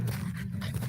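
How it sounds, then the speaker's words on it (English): Two French bulldogs panting close by, a brief, steady rhythm of quick breaths. "with my two little Frenchies"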